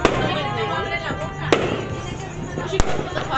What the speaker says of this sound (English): I'm trying to see the fireworks.